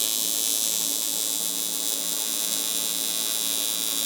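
An Everlast 250EX TIG welder welding aluminum gives off a steady, loud, continuous buzzing hum with no break and no talking.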